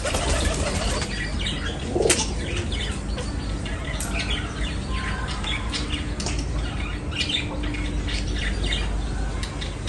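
Chickens flapping their wings and flying around a perch, repeated bursts of wingbeats heard over a noisy background with some bird calls mixed in.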